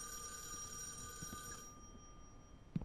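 A telephone rings inside a haunted apartment in the horror video game REC Paroxysm, a steady electronic tone that cuts off partway through, followed by a faint click.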